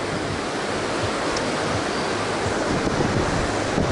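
Strong wind buffets the microphone on a dam during a fishing trip, a dense, continuous roar, gusting unevenly throughout with no talking.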